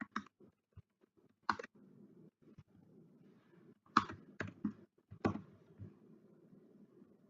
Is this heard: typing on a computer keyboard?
yes